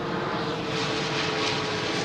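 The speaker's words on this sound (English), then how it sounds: "Let's wait till the airplane passes us." Airplane passing overhead outdoors near a river, a steady broad engine drone that swells slightly midway, moderately loud and heard alone without voices.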